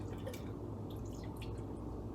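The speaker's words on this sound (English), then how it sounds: "we are gonna pour the liquid egg whites" Liquid egg whites pour into a bowl on a kitchen scale for protein pancakes, a soft continuous low trickle with faint drip-like splashes, steady and close, with no talking.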